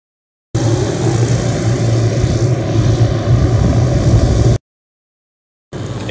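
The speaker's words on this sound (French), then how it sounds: "notre hélicoptère qu'on attend d'ailleurs qui va démarrer dans 20 minutes" A helicopter engine in Hawaii runs as a loud, steady roar with a constant rotor drone, starting abruptly and holding for about four seconds before cutting off, then resuming briefly.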